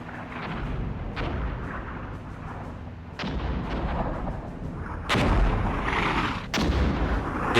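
Heavy artillery shells slam down on a mortar position in the tank warfare game Armored Brigade 2, a string of loud booming impacts spaced a second or two apart over a dense rumbling battlefield din.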